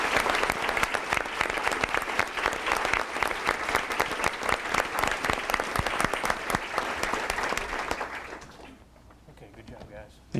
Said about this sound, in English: And a round of applause, please, for our PTA Reflections winners